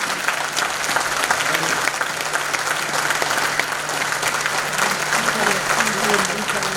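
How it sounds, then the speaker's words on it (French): Loud, sustained applause from a ceremony audience honouring students at the Concours Général 2021 prize event, a dense and continuous roar of many hands clapping close by. "afin que nous puissions vous applaudir"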